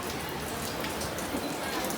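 Steady rain patters across a surface on Diwali's Lakshmi Puja day, a dense, even hiss with scattered drops, continuous and fairly close throughout.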